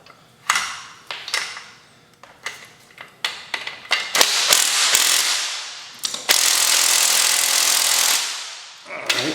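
Impact wrench zapping bolts off a Yamaha DT80 enduro parts bike, with short rattling hammer bursts, a few sharp clanks, and a longer sustained run of rapid impacts near the end.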